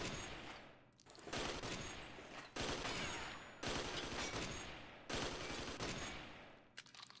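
Rapid gunfire from a Red Steel video game shooting gallery: continuous loud volleys of shots in bursts of about a second each, broken by brief pauses, with no talk.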